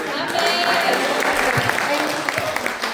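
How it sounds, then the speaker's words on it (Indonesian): Audience applause in a large gathering at the closing session of a church retreat, a dense, steady clapping that continues for the whole three seconds, with a voice speaking over it. "Kasih tepuk tangan sekali lagi"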